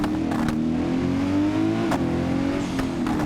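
A car engine revs hard under full throttle, its pitch climbing steadily, heard from inside the vehicle with a few faint clicks and knocks.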